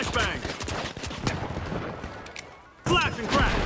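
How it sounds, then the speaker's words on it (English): Flashbang grenade detonating in The Finals, a sharp loud burst after a stretch of gunfire and combat noise, with chaotic bangs before and another cluster of blasts near the end. "Throwing a flashbang!"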